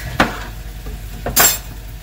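A kitchen knife slicing through a citrus fruit, two crisp cuts against a board, close and clear with no talking.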